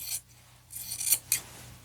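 Close scissors snip through a fabric strip cut from a men's shirt, giving three or four short, crisp slicing strokes with quiet pauses between them.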